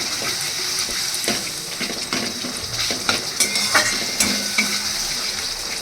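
Green peas go into a spice paste frying in oil, stirred with a utensil. Moderate sizzling runs under repeated scraping and clinking against the pan, with a few sharper knocks.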